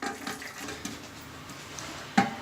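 Water drains from a toilet into a bucket during a fill-valve repair, a soft trickling and splashing close by with small clunks and a sharp knock near the end.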